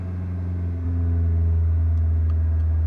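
Suzuki SX4 engine held at a raised, steady rev under light throttle while parked, a loud close hum that steps up slightly in pitch and level partway through and then holds, with no voices.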